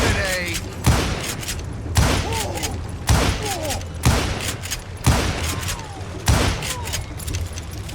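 Video game gunfire cracks out in a steady run of loud single shots about once a second, each with a short echoing tail, while players talk over the shooting.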